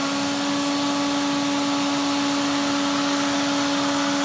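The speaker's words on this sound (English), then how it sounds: "So I got the pneumatic hose here connected onto it. Let's see if it'll spin the turbo brush." A Hoover turbo brush driven by suction through a pneumatic hose, giving a constant loud vacuum roar with steady tonal hums throughout, no voices.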